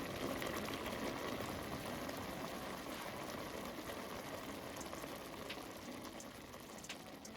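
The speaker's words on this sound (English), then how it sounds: "Once it's bubbling, let boil for 1 to 2 minutes" Steady, dense bubbling of rice and water boiling in a saucepan, continuous and even throughout, fairly quiet and close.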